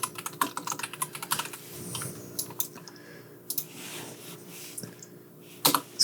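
Computer keyboard typing while a text layer is entered in editing software: quick bursts of close key clicks, irregular and fairly soft, with short pauses between runs and a couple of sharper taps near the end.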